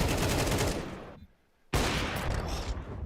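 Gunfire in a professional Counter-Strike match at IEM Sydney 2023: loud, dense shots that cut out briefly mid-clip, then resume just as heavily.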